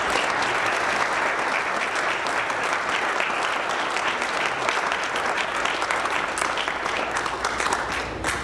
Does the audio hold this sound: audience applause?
yes